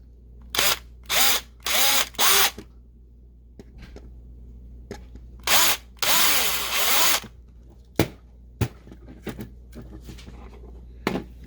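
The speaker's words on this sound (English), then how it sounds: "I'm gonna drill a little bit more out." A power drill boring into a diecast Matchbox Greyhound model coach in several short bursts, three quick ones early and longer runs later, close and loud, separated by quiet gaps with small clicks and taps.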